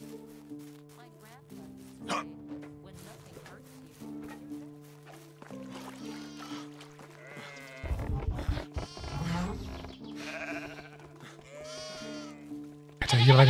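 Sheep bleat repeatedly around a farm in the medieval life-sim game Medieval Dynasty, several overlapping calls near and far over steady low game ambience, with occasional louder bursts.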